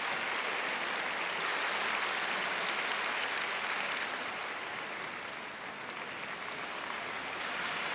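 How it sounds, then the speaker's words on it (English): Sustained applause from an arena crowd at the 2022 World Figure Skating Championships in Montpellier after a pairs short program, a dense, steady clapping roar heard from within the venue. "giving them plenty of applause."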